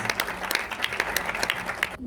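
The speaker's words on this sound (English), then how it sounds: "Give her a big round of applause." A big round of applause from the audience at a women's awards ceremony, brisk and steady clapping with distinct sharp claps standing out, lasting about two seconds before cutting off.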